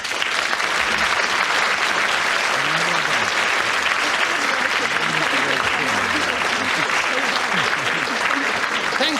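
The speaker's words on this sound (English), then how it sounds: "Thank you, on behalf of our winner, very much for that applause" Studio audience applauding the winner at a radio panel game show, sustained dense clapping across the whole stretch, loud and close, with a few voices audible beneath it.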